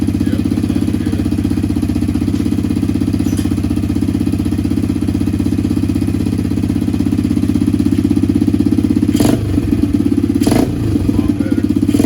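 Yamaha TTR-110 dirt bike with an upgraded carburetor and exhaust idles steadily and loudly up close, a fast even putter with a couple of short bursts of noise near the end.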